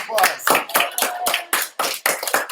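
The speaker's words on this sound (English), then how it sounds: "round of applause" Short round of hand clapping from a small group of students in a classroom, a rapid, even patter of claps lasting a couple of seconds.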